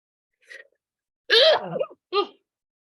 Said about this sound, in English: I'm gonna start sneezing.